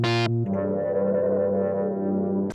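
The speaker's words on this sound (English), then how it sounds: "the patch we used is Evilish, and I think this was a sub bass" Sub bass from the Evilish patch on the Surge XT synthesizer, one long sustained distorted tone after a brief bright attack, holding steady and loud to the end.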